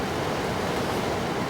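Strong wind buffets over choppy lake water, a constant broadband rush and roar close to the microphone with no let-up.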